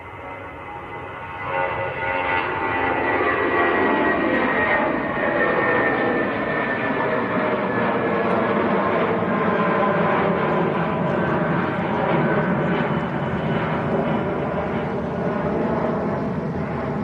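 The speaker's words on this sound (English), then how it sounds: "Emirates is taxiing forward as well, so it's lining up." Jet engine roar from an Emirates airliner taxiing and lining up on the runway at Manchester Airport, a steady, loud, broadband drone that swells early and holds evenly throughout.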